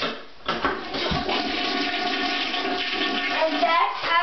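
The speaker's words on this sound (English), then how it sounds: "Then you flush it. You lift your arm up, and this is how you flush it." A toilet flushes with a loud rush of water that starts abruptly and then pours and gurgles steadily, heard up close with a voice faintly present.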